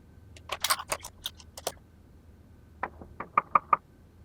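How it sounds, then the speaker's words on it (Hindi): Knocking on a door in a quiet room, a loose burst of raps followed after a pause by a sharper, evenly spaced series of four or five louder knocks. "ऋषिवार दरवाजा खोलो।"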